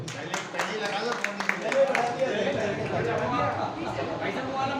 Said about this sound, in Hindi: प्रहार सागर भाई के लिए एक बार जोरदार ताली दो